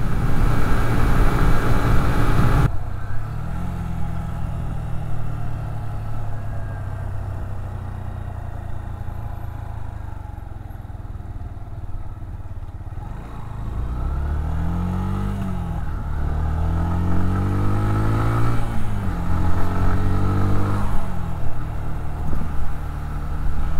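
A 2005 Yamaha YBR 125 motorcycle being ridden, its small engine droning steadily with rising and falling pitch as it revs through gears, close and continuous with no talk.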